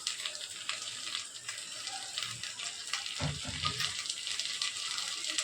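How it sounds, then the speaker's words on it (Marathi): Vegetables stir-frying in a pan for homemade Chinese noodles, a steady hiss of sizzling with brief clatters from a spatula against the pan, close and continuous without talk. "भाज्या छान परतल्या गेल्या आहेत"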